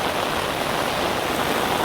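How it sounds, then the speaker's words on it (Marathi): Heavy rain pours down over a flooded town in Dahanu, a dense, steady broadband wash of water that stays loud and even throughout with no voices. "आज पाऊसच खूप आहे"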